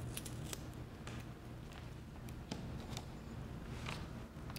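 Scissors snip through the label of a green paint stick at close range, with several faint, sharp clicks over a steady low background hum.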